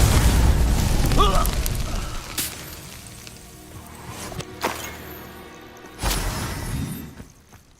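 Spell blasts from Hogwarts Legacy, a Confringo fire spell exploding in bursts: a loud booming impact at the start, then sharp crackling pops around two, four and a half, and six seconds, with a sizzling decay between.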